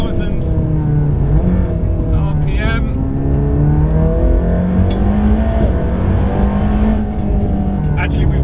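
A Mercedes-AMG GT Black Series V8 revs toward its 7,000 rpm redline on a track, engine rising and falling through gears loudly from inside the cabin while someone talks over it.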